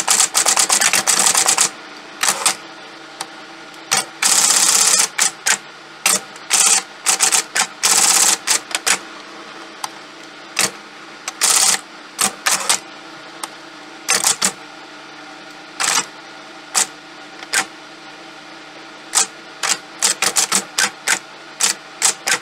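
An Olympia Monica electric typewriter typing, loud close mechanical key strikes arriving in quick bursts and scattered single taps, with a steady motor hum underneath between strokes.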